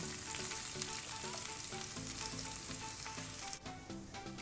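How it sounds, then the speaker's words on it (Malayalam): Sliced onions go into the same pan that just fried shrimp, hissing loudly and continuously as they sauté. A light stirring clatter sits under background music, and the sizzle drops slightly near the end. "ചെമ്മീൻ ഫ്രൈ ചെയ്ത അതേ പാനിലേക്ക് സവാള ഇട്ട് വഴറ്റിയെടുക്കാം"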